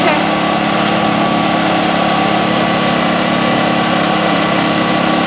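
Machinery runs at a backhoe-dug trench site used for dry washing, giving off a loud, steady, unbroken mechanical drone with a low rumbling throb beneath it.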